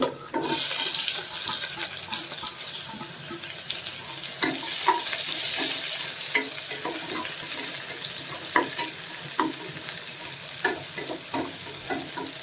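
Green chillies and onion frying in a pressure cooker for vangi bath, a loud close sizzle that bursts in at the start and carries on steadily, broken by repeated stirring clacks of a spoon against the pot, with no talk.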